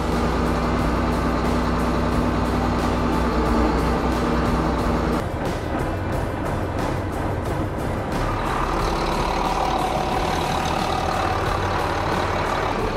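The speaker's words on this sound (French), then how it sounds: "Là on va laisser chauffer le tracteur le temps d'être sur le chemin." A farm tractor idles steadily while warming up, a loud continuous diesel rumble with a low drone that shifts character partway through, with no pauses and no talking.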